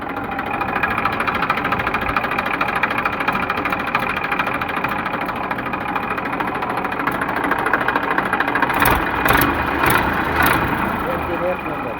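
A 2012 Massey 241 DI tractor engine running, a steady rough drone with slight rhythmic pulsing and a few sharper bursts near the end, a voice talking over it.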